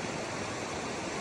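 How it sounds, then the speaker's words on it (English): A raging creek on the Old Loggers Path in Pennsylvania rushes by in a steady, broadband roar of churning water, close and continuous, with no voices. "crossing over a raging creek"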